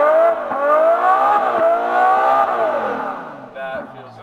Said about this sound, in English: it's in park, so I can just rev the engine?